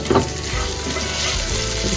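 Onion and radhuni seeds sizzle steadily in hot oil for radhuni-pora dal, a dense continuous frying hiss with faint stirring scrapes, close and fairly loud with no talk.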